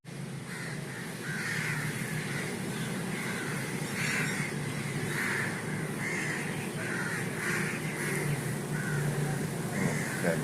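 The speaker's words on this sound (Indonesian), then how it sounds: "Semua burung gagak." Crows caw repeatedly in a steady series of harsh calls over constant background noise, several birds calling close by and at a distance.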